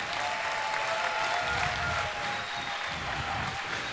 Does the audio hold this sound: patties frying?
no